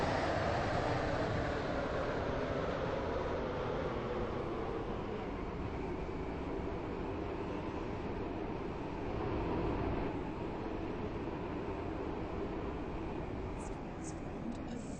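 A video game passenger train of four coaches runs along its rails toward a station, giving a loud, steady, continuous rumble and roar that fades slightly near the end.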